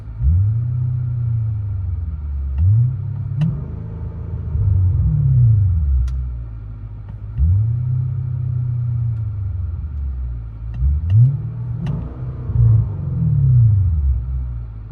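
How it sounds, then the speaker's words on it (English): A 2015 Kia K900 with its 5.0L V8 runs through an X-pipe with open exhaust valves and universal mufflers, giving a loud, close, deep burbling idle that swells into several repeated revs and then settles back down. "Kia K900, X-pipe Valvetronics"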